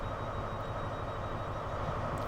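A Lumo-liveried Class 801 electric train pulling away in Train Sim World 5, a steady rumbling drone of traction and rolling wheels heard from the cab, continuous and fairly loud with no talk.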